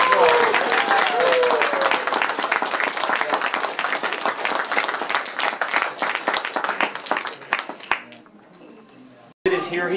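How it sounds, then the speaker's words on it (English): Enthusiastic applause at a Democratic candidate's fundraising event, loud dense clapping that gradually thins into scattered claps, with a voice briefly heard at the end. "big round of applause"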